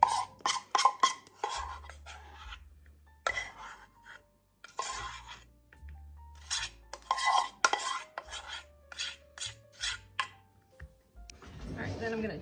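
No-bake candy mixture is scraped and pushed around a pan with a utensil, giving a series of close, irregular scrapes and clinks with short pauses, and a voice speaks briefly near the end.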